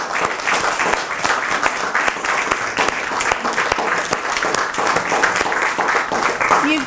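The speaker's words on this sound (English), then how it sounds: "We applaud you." Guests at a breast cancer awareness dinner clap warmly and continuously, a close, lively mix of many hands with distinct individual claps popping out, sustained without pause, with a few voices faintly mixed in.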